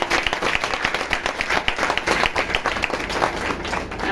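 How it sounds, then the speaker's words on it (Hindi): An audience at a Mumma Day celebration in Priyadarshani Vihar, Delhi, claps loudly and continuously. Distinct hand claps stand out in a brisk, uneven rhythm inside a packed hall. "इसलिए जोरदार ताली अपने लिए बजाइए"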